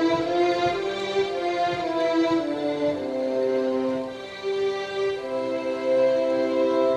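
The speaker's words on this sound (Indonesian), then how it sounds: "Ini misalnya suara biola deh" Synthesized violin tone played in Logic Pro without a breath controller, a steady sustained string-like note shifting pitch a few times, moderately loud and alone.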